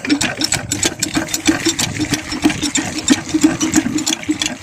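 An irrigation water pump engine runs in a village field, a loud, close, rapid rhythmic chugging that pulses steadily throughout without pause.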